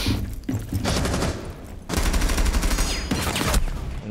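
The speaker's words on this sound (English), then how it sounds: "The barricade takes so many bullets." Rapid automatic gunfire in Rainbow Six Siege pours into a wooden barricade in long, loud bursts broken by short pauses, close and dense with rattling impacts.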